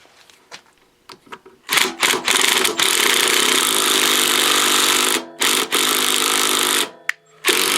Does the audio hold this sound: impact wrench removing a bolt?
yes